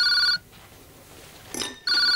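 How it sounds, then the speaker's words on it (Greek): A telephone rings with an electronic tone, two bursts separated by a short gap, loud and close, with no other sound between the rings. "Τηλέφωνο."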